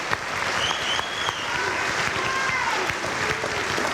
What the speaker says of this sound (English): one last round of applause for our guests and our family members